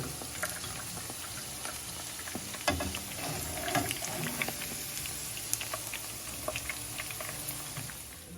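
Okra fries in hot oil in a pan, giving a continuous bubbling crackle with scattered sharp pops and spits throughout, fairly quiet and close with no talk.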